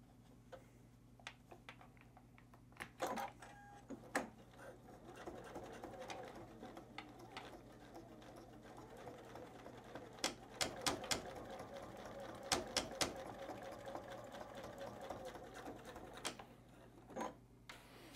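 A sewing machine stitches a fabric face mask in short bursts of rapid mechanical ticking with faint hum beneath and sharp clicks between runs, close and moderately quiet.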